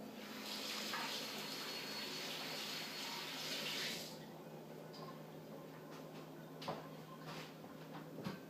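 Tap water runs steadily into a kitchen sink while hands are rinsed, a broadband rush for about four seconds that stops abruptly, followed by quieter handling clicks and faint room sounds.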